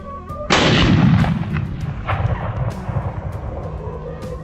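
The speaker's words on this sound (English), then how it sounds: "Gunshots echoed non-stop" A loud gunshot booms in open country during a wild boar hunt, followed by a long rolling echo and scattered further shots fading into the distance.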